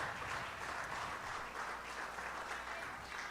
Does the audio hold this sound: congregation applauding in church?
yes